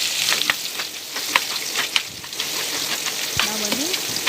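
Chopped onions fry with mustard seeds and chana dal in hot oil for upma, giving a steady close sizzle broken by several sharp spoon scrapes and clicks, with no talking.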